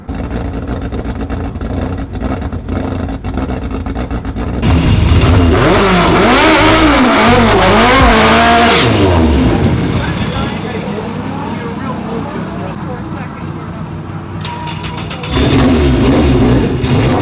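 A 450 whp Honda drag car makes a pass on a 200-shot of nitrous, its engine roaring loud and rising in pitch through the gears before easing off and revving again, with voices in the background.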